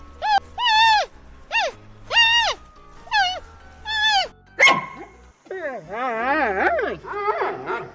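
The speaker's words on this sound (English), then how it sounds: "That's the sound of panda." Series of clear animal calls, strongly pitched and harmonic, repeated in short bursts with brief pauses, followed by a longer wavering, warbling call after a short sharp noise; a panda vocalization from a children's animal sounds set.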